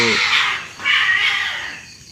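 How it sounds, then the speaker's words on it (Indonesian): A cat in heat gives two long, drawn-out yowls, the first wavering and the second swelling then trailing off, loud and close with a harsh, strained tone and a brief dip between them. "kucing kalau libidonya lagi naik gitu tuh"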